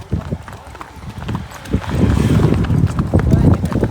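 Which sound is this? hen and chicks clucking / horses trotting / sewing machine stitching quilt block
horses trotting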